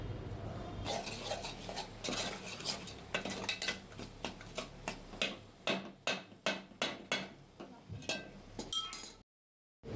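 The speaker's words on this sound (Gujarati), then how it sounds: "બસ ધીરે ધીરે આ રીતે મિક્સ કરતા રહેવાનું છે, સતત મિક્સ કરતા રહેવાનું છે" A metal spoon stirs chhole masala in a pot, scraping and clinking in a steady run of sharp, close strokes with a sizzling background, then stops abruptly near the end.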